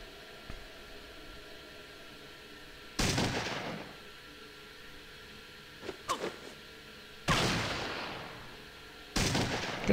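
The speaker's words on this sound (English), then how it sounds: "Good shot, Vic." Three loud, close gunshots in Fallout 2, each a sharp burst with a noisy decaying tail, spaced a few seconds apart over quiet background, with a couple of smaller clicks in between; no talking.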